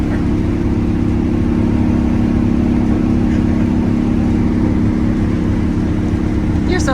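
A Detroit Diesel 6-71 two-stroke engine runs in a GM Silversides bus restarted after many years, a loud, steady low-pitched drone with a constant rumble and no change in pace.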